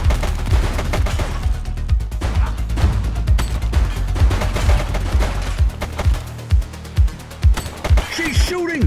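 Rapid bursts of gunfire in the police game The Precinct, with dense repeated shots over several seconds, then a few louder separate reports near the end, and voices breaking in.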